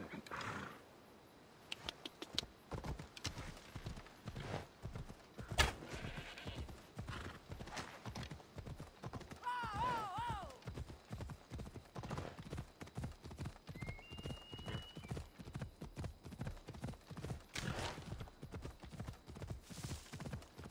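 A horse galloping in the video game Assassin's Creed Odyssey, steady rapid hoofbeats drumming throughout with a brief neigh midway, game ambience underneath.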